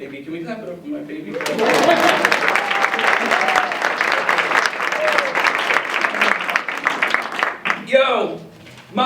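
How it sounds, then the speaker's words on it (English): An audience at a Martin Luther King celebration claps loudly and steadily after a voice speaks, then the applause thins out as talking resumes near the end. "Can we clap it up for my baby?"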